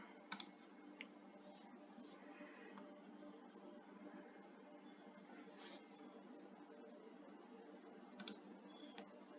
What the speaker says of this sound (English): I know my mouse clicks really loud